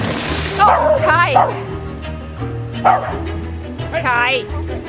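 A dog barks and yips aboard a sailboat near the water, several sharp barks in bursts with pauses between, loud and close over a low steady hum, no talking heard.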